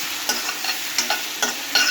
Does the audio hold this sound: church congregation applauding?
no